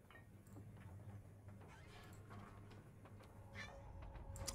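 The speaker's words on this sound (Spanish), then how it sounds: "Ay, Dios, qué pesada mi gata" A black pet cat meowing insistently, several drawn-out meows in a row, quiet but close over a low hum of indoor background noise.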